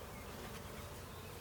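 A dense swarm of roughly 15,000 honeybees being shaken and dumped into a hive gives off a steady, close, droning buzz that holds without a break, with a short knock near the end.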